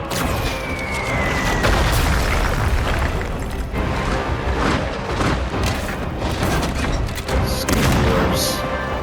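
Cannon fire and explosions in a World of Warcraft cinematic, a dense barrage of heavy booms and blasts over a sustained roar, with a shouted voice mixed in.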